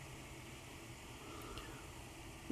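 Computer fans, including a graphics card's, spin inside a PC case fitted with an Enermax ETS-T50 AXE CPU cooler, giving a faint, steady airy whir with no other sound.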